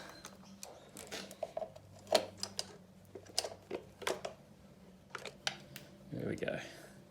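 Wrench undoing two 10mm bolts on a four-stroke outboard motor carburettor, a series of close metallic clicks and ratcheting ticks at an irregular pace, with a faint low hum underneath.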